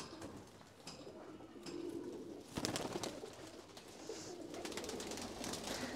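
Golden pigeons in a home collection coo softly at a distance, low murmuring calls under faint room noise and a few clicks, with no talk.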